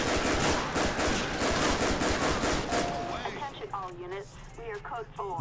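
Rapid automatic gunfire in GTA 5, loud and sustained bursts for about three seconds, then fading out as a voice speaks over the tail end.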